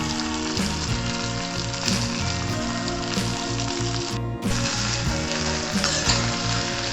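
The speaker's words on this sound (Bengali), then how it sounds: "আদা বাটা দিলাম, এবার আমি মৌরি বাটা দিচ্ছি।" Ginger and fennel paste frying in oil for a traditional Bengali shukto, a loud, steady, close sizzle that runs unbroken throughout, with no talk.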